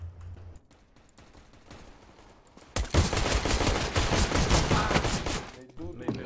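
A decoy grenade in Counter-Strike fakes gunfire with a dense, loud burst of rapid shots that starts abruptly after a quieter stretch of light clicks and footsteps, then stops near the end.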